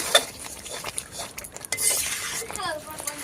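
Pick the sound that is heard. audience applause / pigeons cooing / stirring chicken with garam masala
stirring chicken with garam masala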